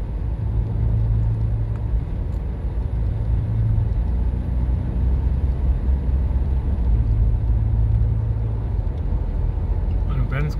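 A car driving on rain-wet roads in Kuwait's Abdullah Mubarak area, giving a steady, close low rumble of tyres and engine with no break, while someone talks over it.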